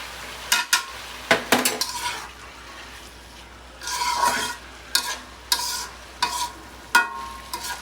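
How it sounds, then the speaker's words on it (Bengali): Potatoes fried in oil with onion are stirred in a pan, with a soft steady sizzle under repeated scraping and clinking strokes of a utensil against the pan, close and fairly quiet. "আলুটাকে আগে তেল পেঁয়াজ দিয়ে মিশাই নিব, দিয়ে দিব"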